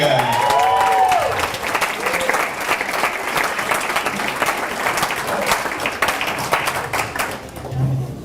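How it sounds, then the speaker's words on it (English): Sustained applause from a wedding crowd after speeches, steady and fairly loud throughout, with some voices and cheers mixed in before it tapers off at the end. "So, ladies and gentlemen, give it up for Kale and Keely."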